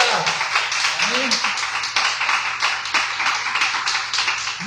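Church congregation applauding, a run of quick, sharp hand claps repeating in an even rhythm for several seconds, with voices faintly underneath.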